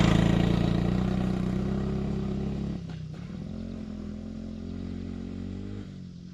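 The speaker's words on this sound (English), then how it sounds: "you kind of have to roll onto the throttle to keep it running" A 1984 Honda Z50 minibike engine, a three-speed, runs at a steady putter, then dips and steadies again as the throttle is rolled. It is close up and alone, with no voices.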